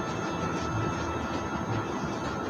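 Moving train in The Walking Dead video game, a steady rumbling rail noise with faint rhythmic clatter, continuous and fairly loud with no talking.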